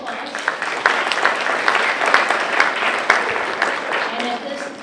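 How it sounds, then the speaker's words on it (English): An audience at a school district geography bee claps in a dense, sustained round of applause, with a voice speaking faintly beneath the clapping. "So let's give them a round of applause."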